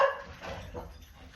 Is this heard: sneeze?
no